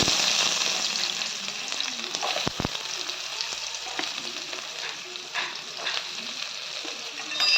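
Finely chopped onion frying in oil with cumin and mustard seeds, a constant loud sizzle with occasional stirring knocks and scrapes against the pan.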